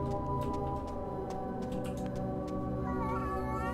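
A nervous cat meows in the video game Lorraine, letting out drawn-out, wavering mews over a steady tonal background with a few soft clicks.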